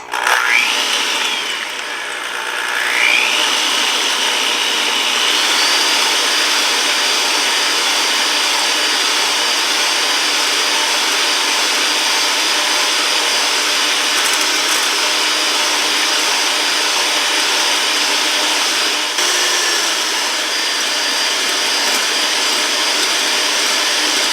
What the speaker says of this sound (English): I'm going to take my electric mixer and mix it up for 5 minutes.